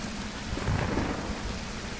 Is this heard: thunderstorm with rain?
yes